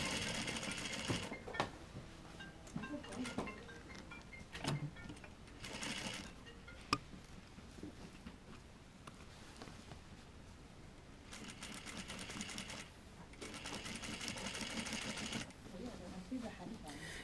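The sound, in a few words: sewing machine stitching jacket collar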